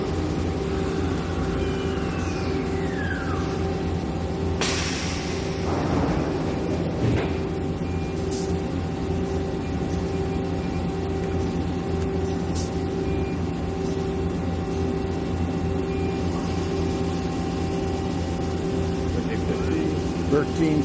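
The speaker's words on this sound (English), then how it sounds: "We're going to run the spindles up and down so you can hear the spindle run" Okuma Captain L370-MW CNC turning center with its spindles turning at 400 RPM, a steady low mechanical hum with faint tonal whine inside a machine shop, broken by a few brief clanks and light background noise.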